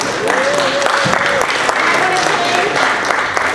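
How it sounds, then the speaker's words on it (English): A crowd at a Mother of Peace walk against gun violence claps in a sustained round of applause, with a voice speaking over the clapping. "Can we get a round of applause for her again?"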